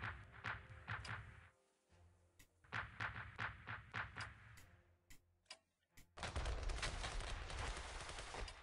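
Bursts of gunfire from units shooting in a World War I-era grand strategy game, with clustered sharp cracks and rattling volleys giving way to a dense, sustained roar of battle noise.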